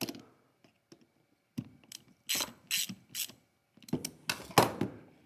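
A ratchet snugs down the bolts on a GM 10L80 / Ford 10R80 transmission oil pump, giving several short bursts of close, crisp clicking separated by pauses.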